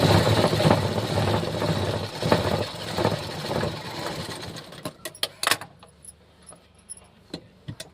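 A sewing machine stitches a blouse sleeve seam with a busy, rapid mechanical whir close by, then slows to a few short isolated clicks and taps as the run ends.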